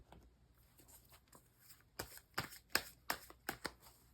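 Tarot cards being shuffled for a reading: a few soft riffles at first, then a run of sharp, close card slaps and flicks coming roughly every few tenths of a second, with no talking.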